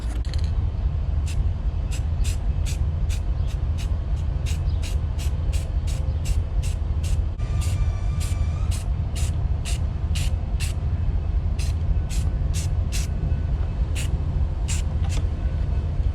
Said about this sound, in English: I'm gonna go ahead and start spraying some of this purple paint